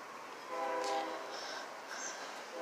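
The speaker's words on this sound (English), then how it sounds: "Today I'm sitting here listening to trains on my porch." A train horn sounds several times from a distance, as heard from a porch while trains pass, with faint, drawn-out tones over a soft rail rumble and no talking.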